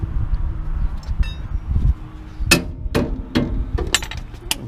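Hammer blows strike a stabilizer link on a 2007-2013 Toyota Tundra's front suspension, several sharp metallic knocks in an uneven sequence, close and loud over low shop rumble.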